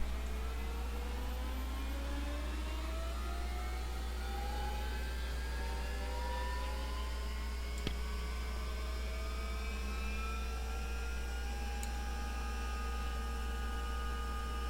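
A Bell 412 helicopter's engine number 1 spools up in the X-Plane 11 flight simulator, a steady turbine whine with rising tones layered over a constant low hum, continuous and unbroken throughout.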